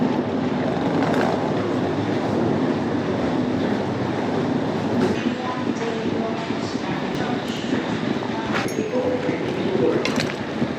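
Continuous rumble and rattle of a moving train heard from inside a carriage, with steady wheel clatter and occasional squeaks, and faint voices in the background.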